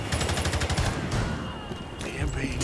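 Shotgun blasts ring out in a team-based shooter match, several loud repeated shots in quick succession over dense gunfire, with a voice speaking over the action.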